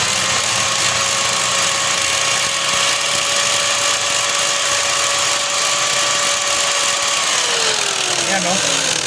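An Armor mini industrial stand fan, weak-running and under repair, has its shaft spinning with a steady motor whine and hum while sandpaper is held against it, the tone holding evenly and dropping as it slows near the end.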